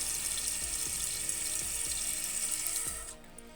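A Fluidmaster 400A fill valve refills a toilet tank with a steady, continuous hiss of rushing water, close and moderately loud, that cuts off abruptly near the end as the float rises and the valve shuts.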